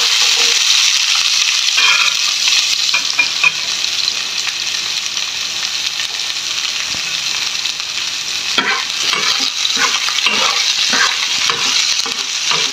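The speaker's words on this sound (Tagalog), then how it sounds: "Ilalagay natin yung sibuyas." Chopped onion stir-fried in a pan with garlic for a pakbet vegetable dish gives a steady, bright sizzle throughout, with scraping and stirring clatter from a utensil growing busier toward the end.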